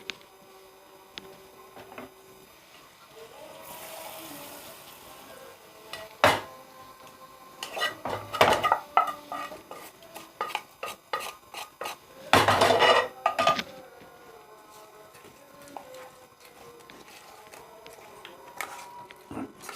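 Metal spoon clanks and scrapes against a steel vessel while hot tempering is stirred into a red chilli pickle, with irregular bursts of clattering and a few sharper knocks amid quieter pauses.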